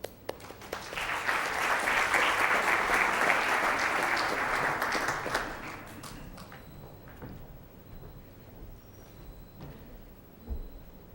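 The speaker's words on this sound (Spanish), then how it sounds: "con un aplauso." Audience applause at a CADE 2009 education conference in Peru: a loud, sustained burst of clapping that builds quickly, holds for several seconds, then fades into quieter room noise with a few scattered claps.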